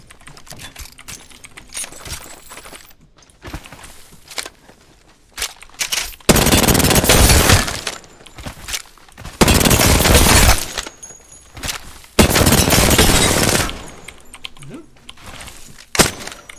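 Rapid bursts of automatic gunfire in Apex Legends as dummies are shot, three loud sustained volleys separated by quieter stretches with clicks and keyboard tapping in between.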